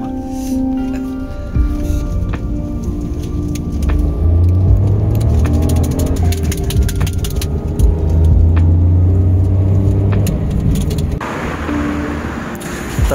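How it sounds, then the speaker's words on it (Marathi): A car pulls up and idles at a roadside stop on a night drive from Pune to Chiplun, just past the Khambatki ghat. A steady, fairly close low engine rumble runs throughout under people talking. "आता मंडळी बघा दुसरी पण गाडी आली आपली समोर"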